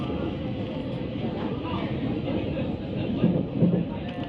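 KLIA airport train running between stations near Kuala Lumpur, a steady low rumble and hum of the carriage in motion heard from inside, with a couple of soft thumps near the end.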